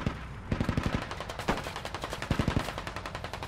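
Rapid bursts of suppressing gunfire in the military shooter game Squad, sharp repeated shots in quick uneven volleys with louder cracks scattered through, no talking.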